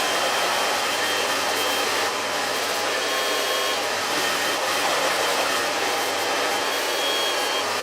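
A hair dryer roars continuously and close up while blow-drying a U-shape haircut, a steady loud whoosh with no pauses or talk.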